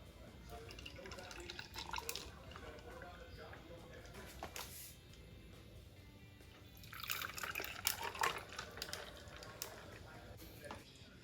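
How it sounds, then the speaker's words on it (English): Tea poured into mason jars filled with ice, a soft trickling liquid stream with faint clinks, louder bursts of pouring partway through, quiet and close. "So now we're going to pour our tea."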